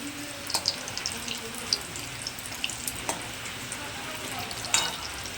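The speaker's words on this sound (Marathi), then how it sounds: "आणि मस्त क्रिस्पी एकदम फ्राय करून घेऊया" Vada frying crisp in hot oil, a steady close sizzle with small crackles and pops running throughout, no talking.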